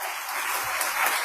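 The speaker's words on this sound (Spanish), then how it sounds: "Démosle un fuerte aplauso." Dense, steady applause from an audience at a Spanish-language school training on a culture of peace, loud and continuous throughout without pause.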